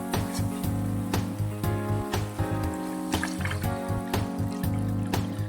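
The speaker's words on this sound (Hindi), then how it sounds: "अब इसमें हम गुनगुना पानी डाल देंगे।" Lukewarm water poured into fried spice masala in a pan for a mustard-leaf sabzi, a steady splashing trickle with repeated soft clinks, close and continuous for several seconds with no talk.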